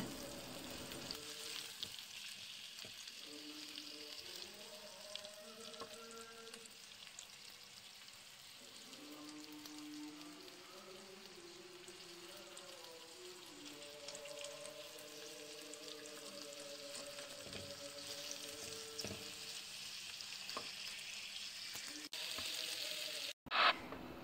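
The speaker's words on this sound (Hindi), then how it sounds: "इन प्याज़ों को इतना फ्राई करना है कि इनका कलर ना बदले" Onions frying gently in about half a cup of oil, a faint, continuous sizzle with a soft hiss running steadily throughout, a low voice murmuring underneath and a brief knock at the end.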